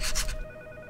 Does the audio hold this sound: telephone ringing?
yes